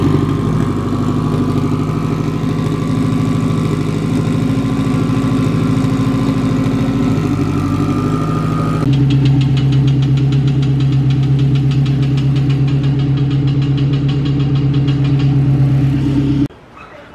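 A Honda car engine running with an uneven, knocking tone, a steady close drone that shifts pitch midway and then cuts off abruptly near the end.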